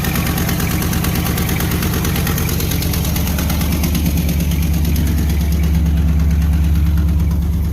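An older plow truck engine idles close by with a steady, even rumble and a fast mechanical pulse throughout, with no voices.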